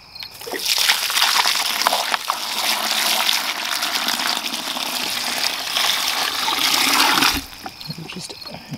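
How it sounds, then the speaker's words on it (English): Water pours steadily into a bucket of compost for a compost tea brew, a loud, continuous splashing gush lasting about seven seconds before stopping abruptly, with a few faint drips after. "And here we're just adding in the water."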